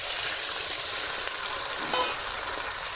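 Food sizzles and crackles steadily in a hot pan, a loud close hiss with a few faint clinks of stirring.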